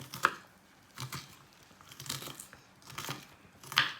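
Knife chopping onion finer on a board while making Ukrainian holubtsi, four or five separate crisp cuts spaced about a second apart, close and fairly faint.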